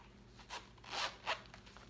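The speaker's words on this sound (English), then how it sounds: "This is the medium zip around wallet by Coach." A Coach medium zip-around wallet being zipped, three short quick rasping zipper pulls, close and quiet, with no talk.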